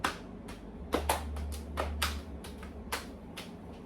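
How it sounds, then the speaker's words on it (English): A patient claps and flips their hands during a head-to-toe physical assessment, giving a series of sharp, soft, irregularly spaced slaps close by in a quiet room, with a low hum underneath. "Can you clap your hands like this? Flip them."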